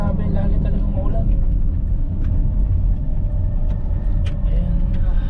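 Steady, loud road rumble from a 26-year-old Nissan Sentra cruising along a highway, a continuous low engine and tyre drone filling the whole stretch with faint higher ticks over it.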